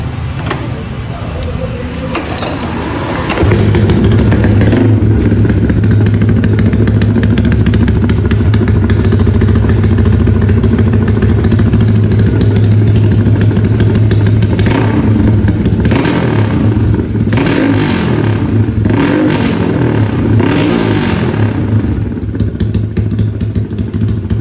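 A Dyno X1R motorcycle fitted with a new exhaust starts after a short quiet moment. Its engine then settles into a loud, steady idle with repeated revs and a rattling clatter, close to the listener, for about twenty seconds.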